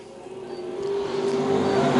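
Race cars three wide coming around to start the first lap at Lakeside Speedway, a dense engine roar building steadily louder as the pack approaches.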